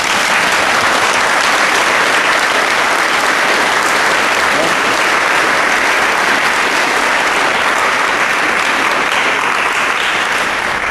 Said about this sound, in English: Applause. Give him a hand.